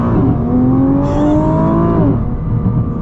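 A 2021 Nissan GT-R Premium accelerates hard, its engine note climbing steadily in pitch for about two seconds before a brief lift and settling back, loud and continuous from inside the car with no talking.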